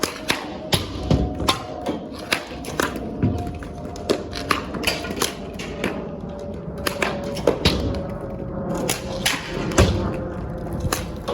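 Hockey pucks shot into a net from atop a box, a series of sharp thuds and taps at uneven intervals with a faint background murmur.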